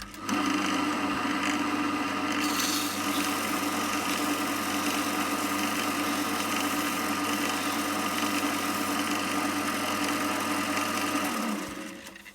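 A steady mechanical whir with a constant hum runs continuously as a wood ring with a metal core spins on a lathe while 120-grit sandpaper rubs against it, with no talk.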